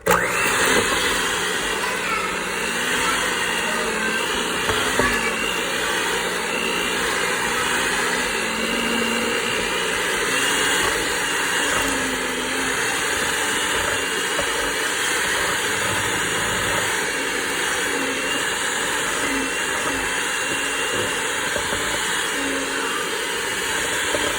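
An electric mixer whips a honey and tallow balm, running as a steady, continuous whir with no pauses.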